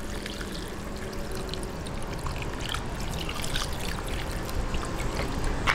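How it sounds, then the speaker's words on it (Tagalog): Water pours steadily into a cooking pot for braising pork hocks, a continuous rushing splash that swells slightly louder toward the end. "ngayon, lagyan na po natin ng tubig, ng water, para po pampalambot."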